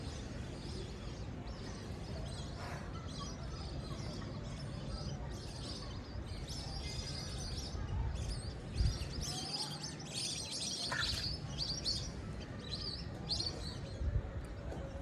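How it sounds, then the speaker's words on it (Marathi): Sparrows chirp at dusk outdoors, with many faint overlapping tweets scattered throughout at some distance over a low, steady ambient hum, and no voices. "ऐकलं तुम्ही चिमण्यांचा आवाज?"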